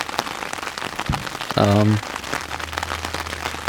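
Steady rain patters on a tarp with constant crackling texture, while a short low tonal sound briefly rises above it midway, at a backcountry camp in Olympic National Park.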